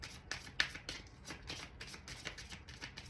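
A deck of hip hop tarot cards is shuffled in quick, close riffles, a soft rhythmic series of papery flicks and slaps repeating steadily over a few seconds.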